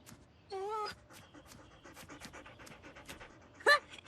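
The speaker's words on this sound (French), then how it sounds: "Il est drôlement rigolo ton chien." A cartoon dog at a flea market pants in quick, rhythmic, fairly close breaths, with a short whining yelp near the start and a sharp squeak near the end.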